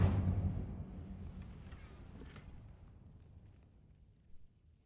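An Incendio fire spell cast in the video game Hogwarts Legacy bursts out loud at the start as a low, rushing blast, then trails off into a long, fading rumble with a small pop near the end.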